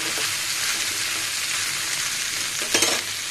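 Spice paste sautéing in hot oil in a pan gives a constant close sizzle, with a short burst of stirring and scraping near the end.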